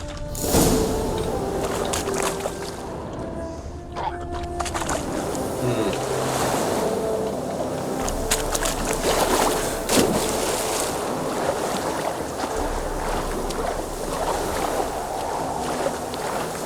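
Character swimming across a lake in The Witcher 3: Wild Hunt, with steady watery sloshing and splashing strokes that run continuously at moderate loudness amid ambient wind and lapping waves.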